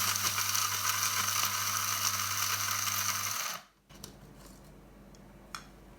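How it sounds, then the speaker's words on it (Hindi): Dry-roasted achar gosht masala spices are ground coarse in a grinder, with a steady, loud whirring rumble that runs for a few seconds and then cuts off, leaving quiet room noise with faint clicks. "जो हमने मसाले ड्राई रोस्ट किए थे उनको हमने पीस लिया है।"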